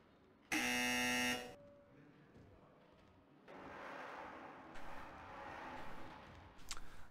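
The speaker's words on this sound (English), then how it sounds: "Did you hear the buzzer?" A loud prison buzzer from the video game Hard Time blares in one steady, harsh electronic tone for about a second, then gives way to a duller background hum and a few short clicks.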